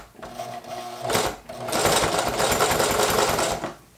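A Singer HD sewing machine stitches through a single layer of leather, starting with a short burst, pausing briefly, then running steadily for about two seconds close up.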